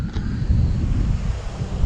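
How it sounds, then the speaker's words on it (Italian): Ocean waves breaking on rocks at Playa Blanca beach in Costa Rica, heard as a steady low surf wash heavily buffeted by wind rumble across the microphone, with no voices. "scogli con onde"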